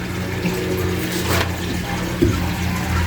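Water running steadily into a tub meant for crayfish, a continuous close rushing and splashing pour that holds level throughout with no voices.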